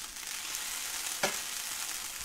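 Gnocchi fry in a pan with a steady, dense hiss of sizzling oil throughout and one brief utensil scrape midway, close and moderately loud, with no talk.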